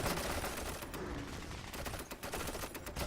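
Massed Gatling Rider fire in the real-time strategy game Paraworld, a dense, continuous rattle of rapid gunshots crackling without pause at a steady loud level, sped up to double speed, with no talk over it.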